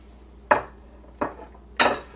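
Kitchen bowls are moved and set down three times on a counter while fermented vegetables are prepared, each a sharp, close clatter followed by a brief ringing tail, spaced roughly evenly with quiet between.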